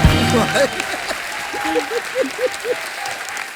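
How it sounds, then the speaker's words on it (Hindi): Loud studio audience applause and cheering on a comedy show stage, with voices calling out over the clapping. "एक बार जोरदार तालियां हो जाए"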